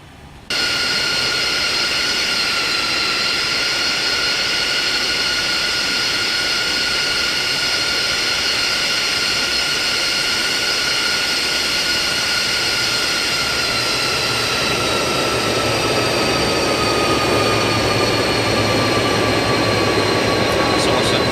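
Boeing 747-200 freighter engines in X-Plane 12 spooling up during taxi: a steady, loud jet whine with high tonal lines that rises and shifts pitch in the later part, continuous over a low rumble.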